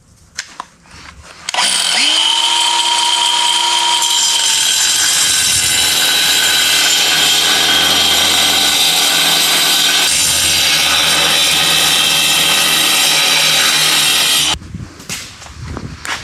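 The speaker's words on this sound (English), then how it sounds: "Got a metal cutting disc on the grinder." Angle grinder fitted with a thin metal cutting disc slicing through welded trailer metal, spinning up sharply then holding a loud, steady, harsh whine for about thirteen seconds before cutting off, close and with no talking.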